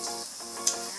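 Garlic sizzles and crackles steadily in hot oil in a pan, close and fairly quiet, with one brief sharper spit partway through.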